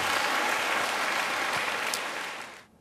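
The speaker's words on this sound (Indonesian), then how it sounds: "Beri tepuk tangan yang baik bagi dia." A church congregation breaks into warm applause during a sermon, a full, continuous patter of many hands that holds strong before fading out abruptly near the end.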